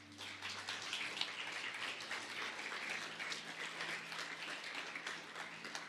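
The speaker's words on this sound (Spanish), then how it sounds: "¿Por qué no le das un fuerte aplauso a Dios?" Church congregation applauding in a soft, steady patter of clapping, faint and somewhat distant, over a low hum.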